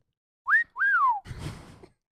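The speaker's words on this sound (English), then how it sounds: "Can you whistle" Two rising whistled notes, the second held longer and sliding down, followed by a brief breathy noise.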